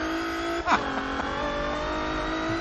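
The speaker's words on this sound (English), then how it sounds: "Bouncing off the rev limiter at 202." A 750+ hp Eagle Talon bounces off its rev limiter at full speed on the Nordschleife, holding a loud, sustained high-pitched engine drone with a brief dip and surge partway through.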